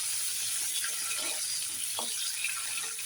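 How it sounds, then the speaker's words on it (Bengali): Three eggs frying in a pan, a steady faint sizzle with soft crackling, continuous and quiet with no talk. "এই 3টে ডিম আমি লাল লাল করে একটু ভেজে নেব।"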